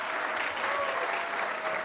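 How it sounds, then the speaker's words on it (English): Applause from the audience at a Post 16 graduation ceremony for the class of 2023 graduates is dense and steady, a full hall clapping at an even level throughout with no talk over it. "One last round of applause for our graduates of 2023."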